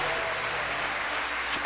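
Church congregation applauding in a steady, continuous wash of clapping that holds through the whole stretch, with a sharper burst of noise at the very end.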